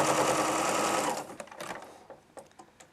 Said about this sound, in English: We're going to go over to our sewing machine and we're going to sew a 1/4"